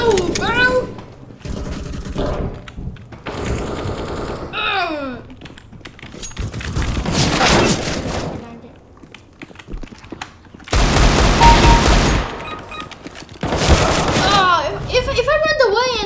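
Pistol gunfire in the shooting video game Global Strike comes as several sharp bursts of shots, mixed with voices talking between and over them.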